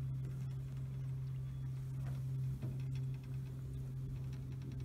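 Small motorized canoe running on choppy water, its outboard motor a steady low drone throughout with a faint mechanical ticking on top, close and continuous with no talking.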